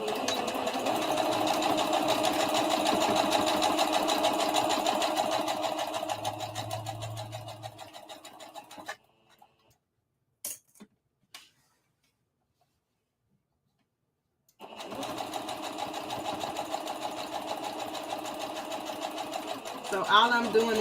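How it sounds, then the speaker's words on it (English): A sewing machine runs steadily, top stitching dress facings on a circle dress, loud and close, stopping for a few seconds with small clicks before starting up again. "So all I'm doing is top stitching my facings down so that they will stay down"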